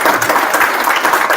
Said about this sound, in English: So a huge round of applause for Professor Kelly.